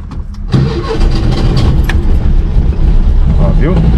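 A car engine cranks and catches, then settles into a steady, loud running rumble close by; someone talks over it.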